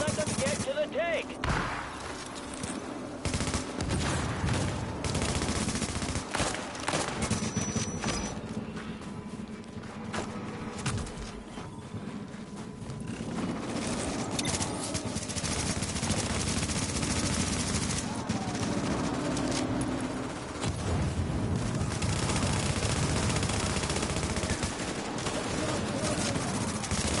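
Explosions and gunfire fill a PS4 war game: rapid, loud bursts of machine-gun fire and blasts roll on almost without pause, with a voice speaking over the battle now and then.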